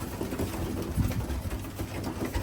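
Young racing pigeons cooing in a loft, soft low burbling coos repeating continuously under a busy, noisy background with no talk.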